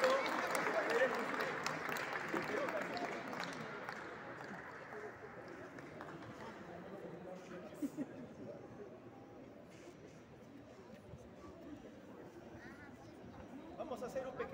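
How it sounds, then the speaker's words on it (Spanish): Young prize winners at the closing ceremony of a chess cup receive applause, a crowd clapping loudly at first and then thinning into murmuring chatter and scattered claps. "Fuertes aplausos, por favor, para estos chicos que son el futuro que queremos."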